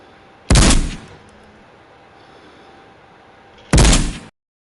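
Two loud, sharp sniper rifle shots in the Ghosts of Tabor VR game, spaced about three seconds apart, each a heavy broadband blast with a short decaying tail over a quiet background.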